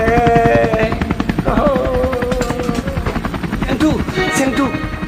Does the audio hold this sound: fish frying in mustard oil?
no